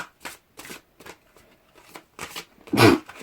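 Oracle cards being shuffled by hand, a handful of short brushing riffles with gaps between them and a louder final snap, close and alone.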